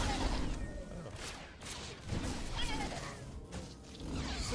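Barrage of blaster fire in Star Wars: The Old Republic, a rapid, chaotic flurry of crackling shots and impact bursts over several seconds, moderately loud.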